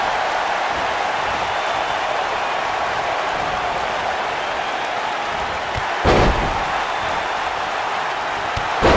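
A steel cage door slams shut once in a WWE 2K19 wrestling match, a sharp metallic bang around the six-second mark over a steady crowd roar, with a smaller thud at the very end.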